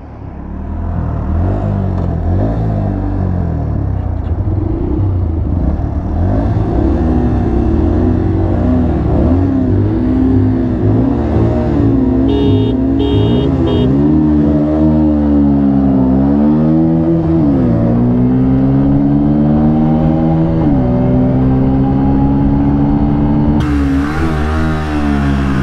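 Bajaj Pulsar 125 commuter and Pulsar NS125 performance motorcycles launch and accelerate in a drag race, their engines revving loudly and continuously with rising and falling pitch sweeps as the riders shift through the gears.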